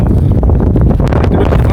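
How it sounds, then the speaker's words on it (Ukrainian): Strong blizzard wind in Saint John, New Brunswick, buffets the microphone with a loud, rough low rumble that gusts unevenly throughout. "Тут вітер фігачить."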